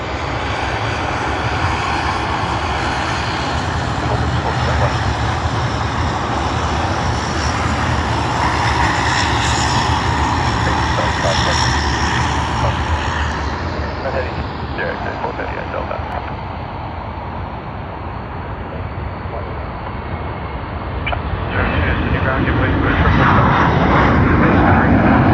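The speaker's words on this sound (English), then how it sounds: "just beginning their takeoff roll" A Boeing 737-800 departing Sydney for Adelaide rolls down the runway and lifts off, its engines building to a loud, sustained roar that dips slightly midway then swells again toward the end.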